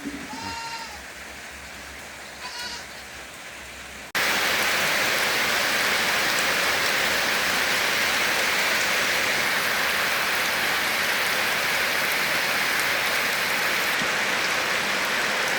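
Heavy rain in Laos starts abruptly after a few quiet seconds with faint animal-like calls, then pours as a loud, dense, unbroken roar of drops on surfaces until the end.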